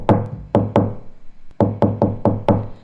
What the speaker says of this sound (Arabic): ده الباب بخبط يا خالتي